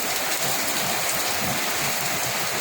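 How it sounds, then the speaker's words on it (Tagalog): Heavy typhoon rain pours down in a dense, continuous hiss, loud and close, with no voices over it. "Ayan po ang ulan, no? Napakalakas."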